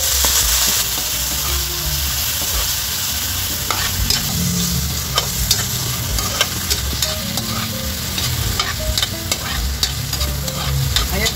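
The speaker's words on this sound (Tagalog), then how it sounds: "Mainit na guys yung ating mantika, kaya ilalagay na natin yung ating bawang. Isunod na natin guys yung ating sibuyas sa kamatis." Garlic, onion and tomato sauté in hot oil for pork belly sinigang, a loud, steady sizzle with scraping stirring strokes and small crackles throughout, no voices.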